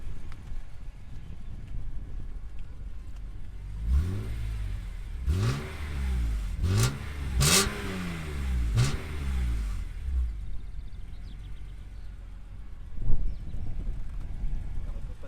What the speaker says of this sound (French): On va écouter un petit peu le bruit de cette beauté.